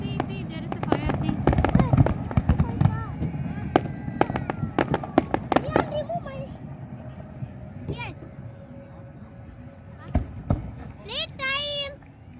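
Fireworks bursting over a New Year celebration at Sheikh Zayed Festival City in Abu Dhabi, a dense run of sharp pops and crackles that thins out into scattered bangs, with crowd voices and talk mixed throughout.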